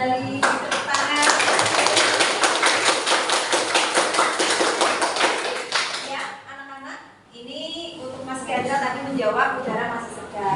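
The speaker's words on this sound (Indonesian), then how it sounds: "Silakan duduk kembali, tepuk tangan." A classroom of children applauds, dense clapping for about six seconds before it fades out, followed by someone speaking.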